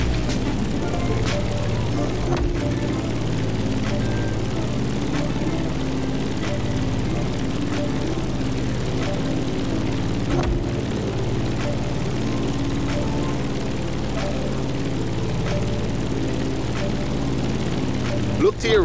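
A propeller aircraft engine drones while climbing in The Crew Motorfest, a steady loud hum with a few sharp clicks, continuing unbroken over the full length.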